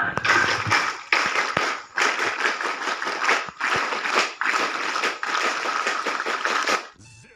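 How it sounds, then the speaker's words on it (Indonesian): A group of scout campers doing the rhythmic Pramuka clap at a camp opening, sharp collective claps in patterned bursts for about seven seconds, crisp and fairly close. "2 kali tepuk pramuka."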